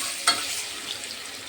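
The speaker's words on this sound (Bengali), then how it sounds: "এখন আস্তে আস্তে করে এপিট উপিট করে ভেজে নেব।" Bread fries frying in a pan, a steady close sizzle with one brief clink of a utensil near the start.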